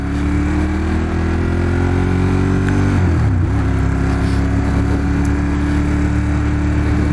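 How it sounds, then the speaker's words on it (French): Ducati Monster 1200 S motorcycle engine accelerating, a loud, steady rumbling drone whose pitch climbs, dips sharply around the middle, then settles into a strong, even roar to the end, close by with no talking. "comme je m'habitue aux accélérations de cette moto"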